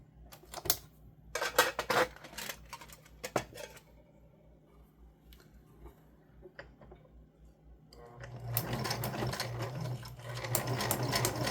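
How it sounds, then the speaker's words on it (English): A sewing machine stitching junk journal pages, with scattered ticks and short bursts at first, then a steady loud whirring run close by, no talk. "I was just sewing in the wrong place"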